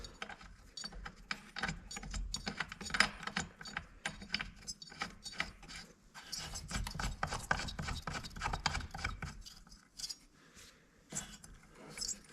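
Spark plug threaded by hand into a vintage Homelite Zip two-stroke chainsaw, a run of close, scratchy metallic ratcheting and rubbing clicks with short pauses between bursts.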